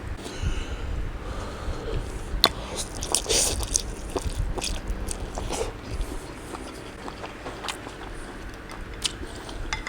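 Close, wet chewing and soft mouth clicks from someone tasting gluten-free sweet potato lo mein noodles with ginger and spring onion, with irregular bites over a low background and no talking.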